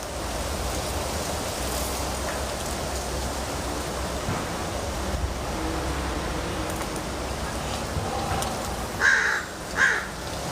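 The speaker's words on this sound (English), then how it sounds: "The crow will have its say." Two harsh caws from a crow come near the end, standing out above a constant broadband rushing background like rain or steady outdoor noise.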